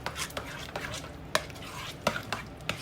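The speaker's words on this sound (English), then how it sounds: "Give it a good stir." A spoon stirs a sausage and cheese mixture for stuffed shells in a bowl, with soft repeated scraping and several sharp taps against the side, close and fairly quiet.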